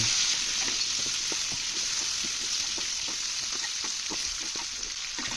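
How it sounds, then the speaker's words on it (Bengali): Broiler chicken fries in hot oil with a loud, continuous hiss, overlaid by small irregular crackles and occasional soft taps from stirring, and no talk. "সুন্দর করে মুরগিটাকে ভেজে নেবেন"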